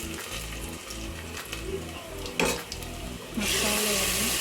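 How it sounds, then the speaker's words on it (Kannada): Mustard seeds and onion frying in hot oil for a Kannada-style tempering for bassaru, with steady sizzling, stirring, and metal utensil clinks against the pan, swelling to a loud continuous sizzle near the end. "ಸ್ವಲ್ಪ ಸಾಸಿವೆಯನ್ನು ಹಾಕಿ, ಸಾಸಿವೆ ಚಿಟಪಟ ಅಂದಾಗ ಸ್ವಲ್ಪ 1 ಈರುಳ್ಳಿಯನ್ನು ಹಾಕ್ಕೊಂಡು ಒಗ್ಗರಣೆ ಮಾಡಿಕೊಂಡು"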